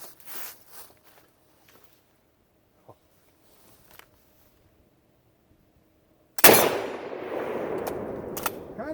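A short Lee Enfield rifle fires old Pakistani ammunition: after a faint click and a pause comes a single sharp, loud report, followed by a long rolling echo outdoors.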